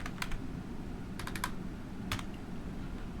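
JavaScript code typed on a computer keyboard: a few quick bursts of crisp key clicks, close and clear against a quiet room, with no talking.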